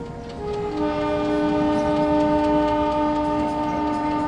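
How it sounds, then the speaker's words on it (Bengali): A train pulls into a rural station at night and sounds a long, loud, sustained whistle with several steady tones over a rumbling, clattering undercarriage, with no voices. "ট্রেনটা হুইসেল তুলতে লাগলো।"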